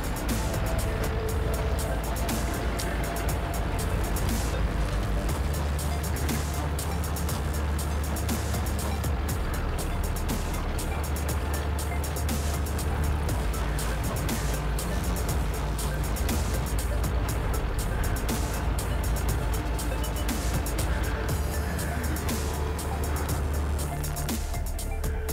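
A tank in World of Tanks drives continuously, a dense low engine rumble and clanking track noise holding steady and loud throughout with no pauses.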